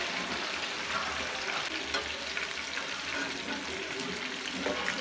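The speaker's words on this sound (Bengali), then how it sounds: "চিকেনটা কিন্তু আমি একদম বেশি করে ভাজবো না, অল্প করে হালকা করে ফ্রাই করবো" Chicken pieces fry lightly in a pan, giving a steady, close sizzle with soft crackles and occasional stirring.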